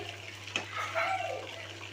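Chicken 65 pieces deep-frying in hot oil in a home kitchen, a steady sizzling hiss with soft crackles and a brief louder splash midway, close and fairly quiet with no talking.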